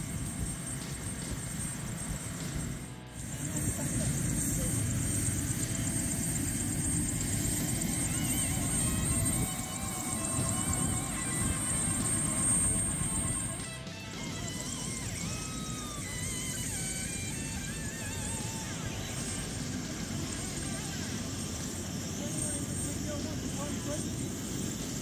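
A steady, loud helicopter engine and rotor drone runs throughout with a constant whir and brief dips, as people talk over the noise during a helicopter ride at Uluru.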